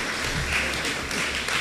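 An audience at a community association meeting claps together, a brief dense patter of many hands at moderate volume.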